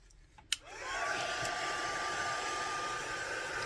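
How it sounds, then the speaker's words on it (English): After a small click, a heat tool switches on and blows hot air in a steady loud whoosh with a faint whine, continuing alone. "I'm just going to quickly use my heat tool on that"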